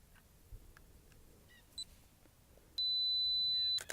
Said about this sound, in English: So I'm now going to take this image. Is my timer on? Nope, but it is now.